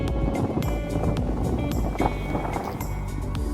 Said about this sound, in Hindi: बहुत तेज़ हवाएं आपको इधर आ भी रही होंगी।